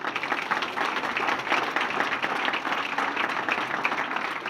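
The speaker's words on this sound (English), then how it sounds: "big round of applause for Mr." Crowd at a Murray State Hall of Fame induction claps in a steady, moderately loud round of applause honoring a track and field inductee.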